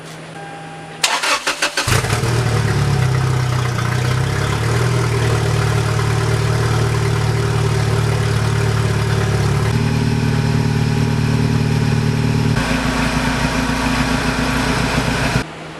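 A turbocharged Toyota Tacoma truck engine fires up for the first time after a rebuild, cranking briefly before catching, then settles into a loud, steady idle that shifts pitch a couple of times, close to the microphone.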